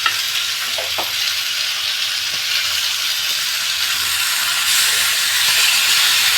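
Tandoori-marinated chicken pieces fry in a pan with a loud, continuous hissing sizzle, close up and steady, with a few faint knocks from turning.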